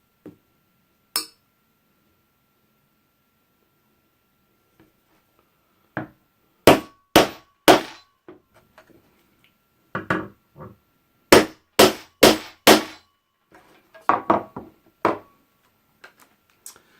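A hammer tapping a bradawl to mark holes, sharp isolated knocks at first, then clustered bursts of several quick taps, close and dry with quiet gaps between.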